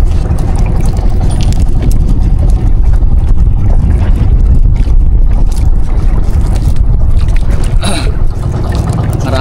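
Loud, constant engine roar and wind buffeting from a fishing boat out on open water among other fishing boats, with a dense rumbling hum running unbroken throughout.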